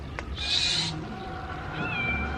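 A cat meows once, fairly close and clear, at a plant sale, with a thinner, fainter second meow following amid quiet background noise.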